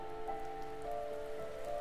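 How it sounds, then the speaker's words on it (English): Steady rain falls in the video game The First Tree, a soft continuous patter on surfaces beneath sustained ambient musical tones, with no voices. "It's raining, I don't like it."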